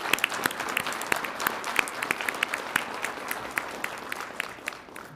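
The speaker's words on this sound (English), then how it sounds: "Let's give them a round of applause in appreciation of the outstanding job they do on a daily basis." Sustained applause from an audience at a Las Cruces city council meeting honoring veterans, steady dense clapping with sharper individual claps throughout, moderately loud and continuous with no talk.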